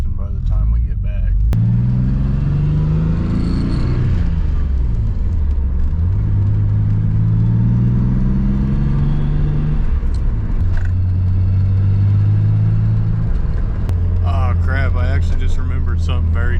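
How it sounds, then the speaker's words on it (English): A twin-turbo Nissan 300ZX engine idles low and steady, then revs up several times and drops back to idle, loud and close, with a voice talking over it. "now you guys see we're idling 800 RPMs. Rev comes down just fine"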